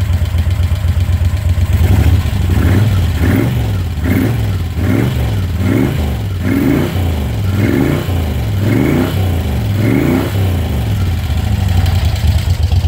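A motorcycle engine runs steadily after a choked start, a loud close rumble with rhythmic rising and falling revs about every second, alone without talk.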